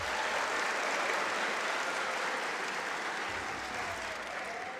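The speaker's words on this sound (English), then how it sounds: "Let's give our graduates another round of applause" A large crowd at a graduation ceremony applauds steadily, a dense, continuous wash of clapping that holds for several seconds without pause.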